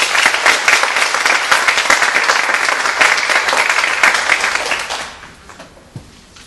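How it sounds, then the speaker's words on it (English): An audience at an honor society induction ceremony claps in a full, dense burst of applause that holds steady for several seconds, then tapers off quickly to scattered claps and near quiet. "Big round of applause,"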